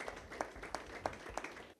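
Applause at an annual meeting of staff and volunteers of an Ethiopian Orthodox Tewahedo gospel ministry, a fairly soft, steady patter of many hands with small rhythmic surges, no voices over it.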